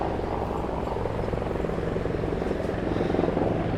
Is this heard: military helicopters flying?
yes